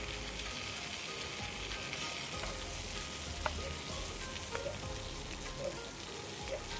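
Okra (bhindi) frying in a pan for a Malvani Dasara thali, a steady close sizzle with soft crackles and occasional pops throughout, no talking.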